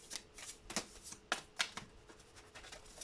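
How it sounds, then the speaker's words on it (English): A deck of tarot cards is shuffled in quick, crisp riffles and slaps, several bursts of papery flutter, close and quiet. "I do feel called to just shuffle up my cards again before I do this next one"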